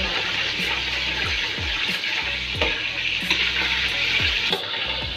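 Water poured into a hot pan of frying ginger and garlic, a loud, steady sizzle and hiss with bubbling throughout, no voices.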